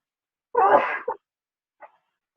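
A single loud, close sneeze, followed after a pause by a brief faint sniff.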